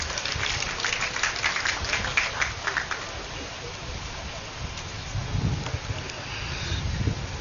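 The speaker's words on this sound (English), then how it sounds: "Please welcome him with a round of applause." A crowd of guests gives a round of applause for the FCDA Executive Secretary at a 2025 project commissioning ceremony in Nigeria; dense, steady clapping is loudest in the first few seconds, then thins under a noisy, reverberant outdoor background.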